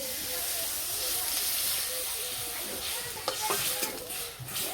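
Boiled chana dal hits a hot pan with a steady hiss and sizzle, broken by a few stirring scrapes and clatters near the end, close and moderately loud.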